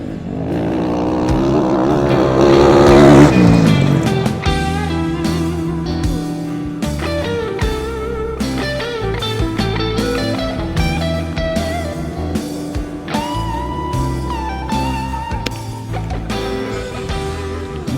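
A Dakar rally car drives over stones on the sixth stage in Saudi Arabia, giving a loud, continuous engine roar with dense rattling and crunching throughout, swelling early and then holding steady and close.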